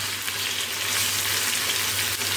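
Spice frying in a pan, a dense, even hiss of sizzling oil that holds steady throughout, close and moderately loud, with no voices.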